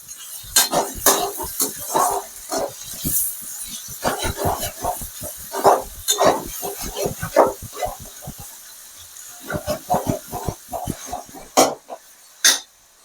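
Onions and tomatoes cook in a pan for vegetable rava kichadi. A spoon stirs and scrapes against the metal in loud, uneven clatters and knocks, with short pauses between bursts.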